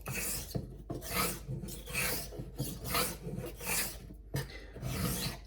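A straight razor strokes back and forth across a sharpening stone in a rhythmic series of about seven rasping, scraping passes, close and clear with short pauses between strokes.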